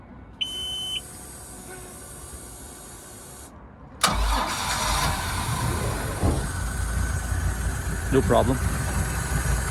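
Mercruiser 4.3L MPI 220HP V6 in a 2005 Bayliner 195 given a hot restart: a warning buzzer beeps, then the engine cranks and catches into a steady close idle with a voice speaking briefly.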